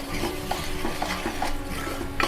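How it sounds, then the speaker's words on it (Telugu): Ground coconut being stirred and dried out in a pan: a spatula scrapes and rustles in a quick, repeating rhythm, close and fairly loud, over a soft steady sizzle. "వేసుకొని మంచిగా కలుపుకుందాము"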